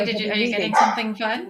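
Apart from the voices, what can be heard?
dog barking at a delivery at the door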